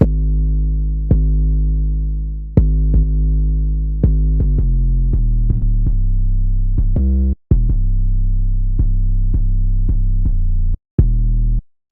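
A deep, sustained 808 bass line with punchy drum hits layered on top, the bass notes shifting in a steady repeating pattern with brief dropouts.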